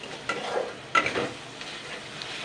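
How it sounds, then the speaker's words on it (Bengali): A spice masala with salt, sugar, turmeric and chilli powder fries in a pan for a tilapia curry, giving a low, quiet sizzle under a few spatula scrapes, with two sharper stirs early on and no talking. "এটা দিয়ে আমি আরও দুই মিনিট মশলাটাকে কষিয়ে নেবো"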